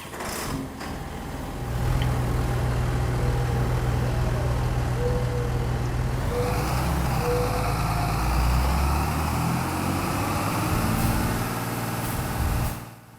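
A 9630 tractor in Farming Simulator 22 runs with a steady, low diesel drone that swells after a couple of seconds and holds, loud and close, before cutting off near the end.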